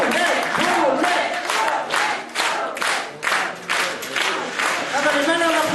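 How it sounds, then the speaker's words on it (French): A dense burst of crowd applause and cheering with shouting voices mixed in, loud and close, swelling and dipping in waves for several seconds. "On applaudit bien fort."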